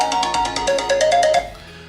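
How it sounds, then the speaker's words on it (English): An Ancall find-my-phone ringtone plays as a bright, repeating electronic melody of quick tones that stops abruptly near the end. "So if for a single click, I am going to say find my phone, and you can pick different ringtones."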